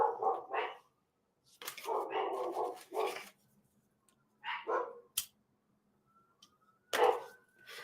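A dog barks in short intermittent bursts, loud and close, separated by pauses, with a few other brief noises between them.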